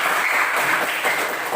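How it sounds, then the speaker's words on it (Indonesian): A classroom group claps for a student named Rizka, a steady, dense burst of applause that is close and fairly loud throughout its short span. "terima kasih tepuk tangan untuk Rizka"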